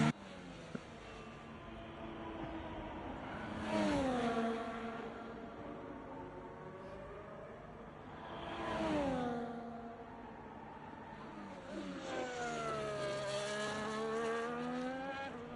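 A racing car laps a track in a racing video game, engine note rising and falling through gear changes, with three loud near passes and tire squeal between quieter stretches, no voices.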